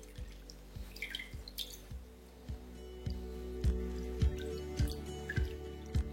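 Water drips and trickles off boiled broccoli draining in a kitchen strainer, a string of small soft drops and squishy splashes falling at an irregular pace over a low steady hum.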